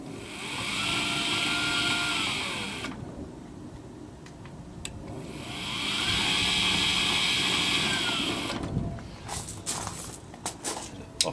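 Twin electric motors of a PowaWalker Ranger caddy running in reverse, a high whining hum that rises for a few seconds, cuts off, starts again for another stretch, then stops, followed by clicks and handling noises.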